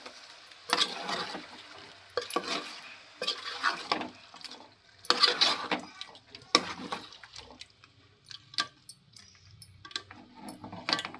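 Curry ingredients are mixed in a pan with a series of irregular scraping and clinking strokes, close by and fairly soft, separated by brief gaps, with no voices.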